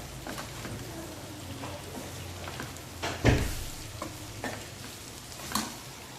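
A monsoon wild vegetable goes into a pan with spices and fries under soft, steady sizzling, broken by a few louder stirring scrapes and clatters.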